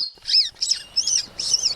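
A brown gerygone gives four quick, bright chirping notes in an even rhythm, high-pitched and close, with a quiet background.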